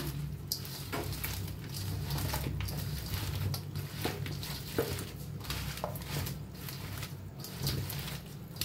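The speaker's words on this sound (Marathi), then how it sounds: "कोथिंबीर, पुदिना सगळं मिक्स करून घेऊया हाताने कटलला" Cutlet mixture with coriander and mint is worked by hand, giving soft continuous squishing and patting with faint clicks over a low steady hum, quiet and close without speech.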